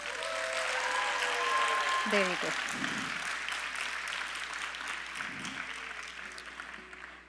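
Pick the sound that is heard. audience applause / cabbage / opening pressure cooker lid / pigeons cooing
audience applause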